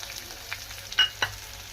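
Ginger and spices stir-fried with a metal spatula for chana dal: a faint, low sizzle with a few soft scrapes and one or two brief clinks, close by, with no talking.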